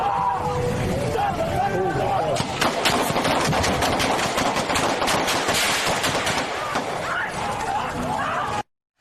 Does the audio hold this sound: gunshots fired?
yes